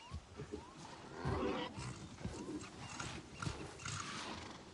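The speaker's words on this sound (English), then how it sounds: "Dire horses are wary of strangers." A dire horse in Avatar: Frontiers of Pandora gives rough, snorting whinnies and breathy growls in short bursts, fairly close and moderately loud against a low game ambience.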